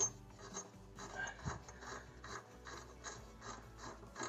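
Faucet hose connections on a Pfister LF-049-LRGS faucet are tightened, giving repeated ratcheting clicks and metallic scraping in a quiet, close setting.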